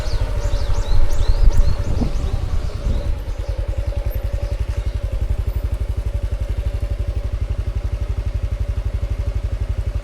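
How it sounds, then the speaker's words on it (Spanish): A Honda CT125 motorcycle idles nearby with an even, rapid putter that settles in after a brief burst of clatter, steady and alone to the end. "Voy a estacionar la moto."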